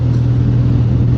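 A Kawasaki W650 retro motorcycle rumbles with a steady, loud low engine note at the start of a ride, brief and close with no talk.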